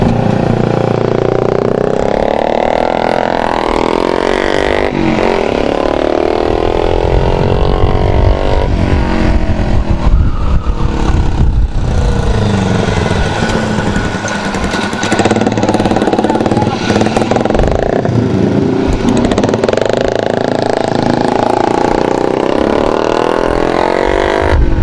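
Loud, continuous engine roar of heavy road traffic heading into Penang, with cars and motorcycles passing and revving close by while people talk over the noise.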